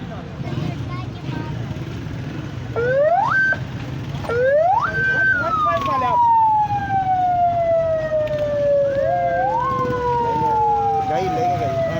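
An ambulance siren wails repeatedly, rising and falling in long sweeping tones over steady street traffic noise, loud and fairly close throughout.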